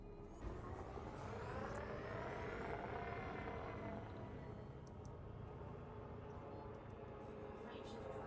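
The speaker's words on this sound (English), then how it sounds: "Frameshift drive charging." A spaceship's frameshift drive charging in a space game, a steady loud roaring hum with rising tonal sweeps that holds throughout.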